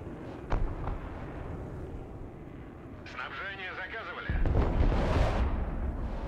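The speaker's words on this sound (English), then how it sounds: "Oh, he's gonna bomb all that." Bombing in the Broken Arrow war game: a loud burst of explosions and rumbling blasts swells midway and stays heavy, with a player's voice talking over it.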